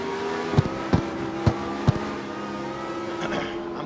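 A Lamborghini Murcielago's engine in the CarX Street racing game hums at a steady, loud drone, broken early on by four sharp pops in quick succession before settling into an even tone.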